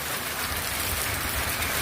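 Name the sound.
hail or big raindrops on aluminum patio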